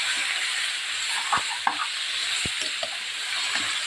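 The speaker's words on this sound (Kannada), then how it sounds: "ಇದು ಸ್ವಲ್ಪ ಎಣ್ಣೆಯಲ್ಲಿ ಚೆನ್ನಾಗಿ ಬೇಯಬೇಕು" Masala for chicken sambar fries in hot oil with a steady, close sizzle, and occasional soft scrapes and knocks come from stirring in the pan.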